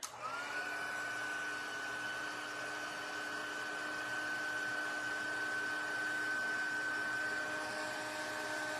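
Embossing heat tool blowing steadily while heat-setting a small line of embossed sentiment on a handmade fiesta celebration card, a constant airy whir with a high whine running unbroken throughout, no talking.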